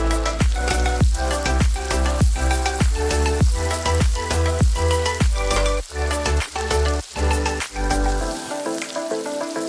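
Sliced onions and garlic frying in butter in a pan, a loud continuous sizzle broken by repeated stirring scrapes at a steady rhythm, close up with no talk.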